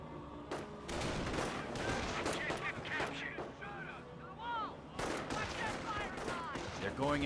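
Gunfire in Company of Heroes as a rifle squad engages Volksgrenadiers near a garrison: rapid rifle and machine-gun bursts crackle repeatedly over a battle din, with a commentator talking throughout.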